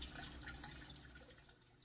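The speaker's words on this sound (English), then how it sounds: "you can see how the water trickles right down along the back of the grow cups" Water trickles and splashes steadily down the back of the grow cups in a hydroponic grow tower with no plants in it, making a continuous close wash of sound with no voices.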